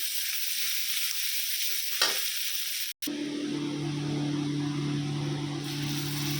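Mustard paste frying in oil in a home kitchen: a steady, loud sizzle throughout, briefly cut by a sharp break, then resuming with a stronger hiss and a low hum.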